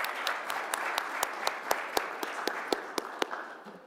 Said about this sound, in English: I told you to hold your applause, but that was worthy